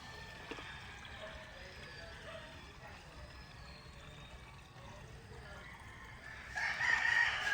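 Young roosters crowing in the morning, several uneven crows rising over ambient yard noise, with one louder, closer crow near the end.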